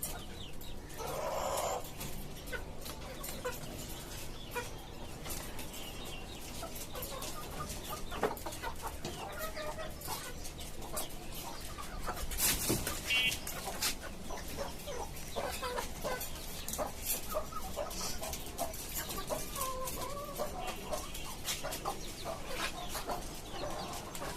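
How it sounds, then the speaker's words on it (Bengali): Native chickens cluck in a caged farm on the roof of a five-storey building, a faint, continuous chorus of overlapping clucks with no voices. "পাঁচতলা বাড়ির ছাদের উপর খাঁচা বিশিষ্ট একটি মুরগির খামার"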